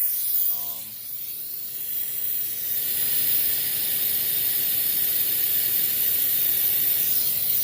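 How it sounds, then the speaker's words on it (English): A loud, steady, broadband hiss from a running air compressor continues without break in a workshop during a WRX BRAT build, with a brief faint tonal sound near the start. "You'll be able to hear me over the compressor."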